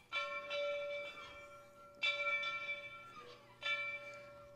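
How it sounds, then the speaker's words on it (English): A large steam locomotive's bell at a Pennsylvania railroad museum is struck by children, three distinct clangs about two seconds apart, each ringing out and decaying in a reverberant hall. "Kids over there playing with the bell."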